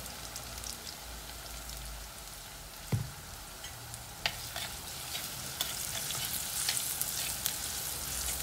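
A curry leaf curry frying and being stirred in a pan, a steady soft sizzle with occasional sharp clicks and scrapes of the spoon against the pan scattered throughout.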